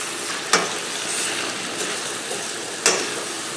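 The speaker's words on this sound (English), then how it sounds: "This is on about almost a medium high because I want to get this meat burnt up." Ground meat for a classic lasagna sauce sizzles steadily in a pan over medium-high heat, a constant close hiss broken by two sharp scrapes or clinks of stirring.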